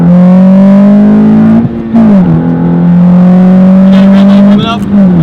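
A Honda Civic Si with about 200 horsepower pulls hard on a road, engine drone rising steadily through the revs, dipping briefly at a gear shift, then climbing again, loud and close.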